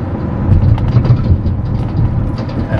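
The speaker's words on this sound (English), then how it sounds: "You can hear my trailer clanking in the background" An empty utility trailer clanking behind a vehicle, a loud low rumble with irregular metallic knocks and rattles over continuous road noise, no voices.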